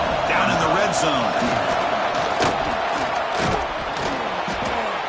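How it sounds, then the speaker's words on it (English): A large football stadium crowd at an FSU versus Ohio State game roars steadily near the goal line, a dense continuous wall of cheering and shouting that runs beneath a commentator's voice. "the crowd really making some noise now, trying to help out this defense to get this stop near the goal line."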